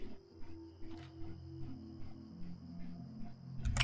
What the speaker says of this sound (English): A cerulean cicada.